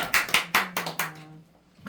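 Applause from a small gathering closing a lecture on a Daejonggyo scripture, a handful of hands clapping in quick bursts for about a second before fading out.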